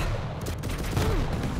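Rapid rocket fire from a competitive arena shooter duel, a dense burst of explosive blasts packed into a second and a half with no pauses.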